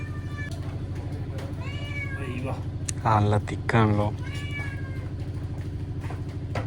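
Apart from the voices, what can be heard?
cat meowing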